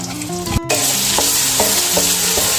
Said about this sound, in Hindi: अब मैं इस पेस्ट को ऑयल में दोबारा से ऐड